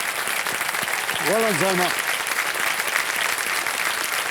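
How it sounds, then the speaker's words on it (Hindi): Studio audience applause on the KBC (Kaun Banega Crorepati) Season 14 quiz show, a dense, steady clapping that fills the room, with a voice speaking briefly over it. "ताली बज जानी चाहिए उनके लिए।"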